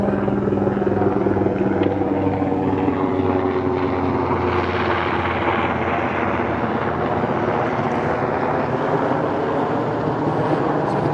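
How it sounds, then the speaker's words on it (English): A helicopter passes over a coastal harbour with a pebble beach, its rotor and engine making a steady, loud drone that fills the whole stretch and swells slightly near the middle. "There's a helicopter."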